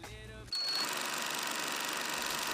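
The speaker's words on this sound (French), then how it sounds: "Je vais coudre tout ça" Electric sewing machine stitching denim jeans, kicking in abruptly after a short lull and then running as a fast, steady buzzing whir, close and continuous.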